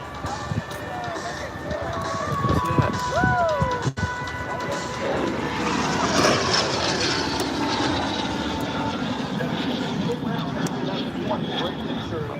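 A silver L-39 jet sweeps past at an air show in Houston, its engine roar swelling into a loud, rising and falling whine. Crowd noise and an announcer's voice carry beneath the pass.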